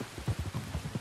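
Rain falls in Red Dead Redemption 2, a steady patter with soft low thuds of drops hitting the ground close by and no talk.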